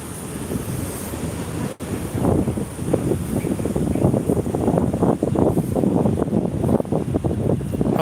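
Steady, fairly loud wind buffeting a microphone outdoors on a Tokyo street walk, a broadband rumble that keeps up without pause throughout, with a brief dropout near the start.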